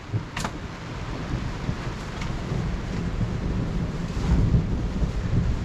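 Thunder rolls over steady rain during an outdoor summer storm while hunting, a sharp crack early on followed by a long, low rumble beneath constant rain hiss and wind buffeting.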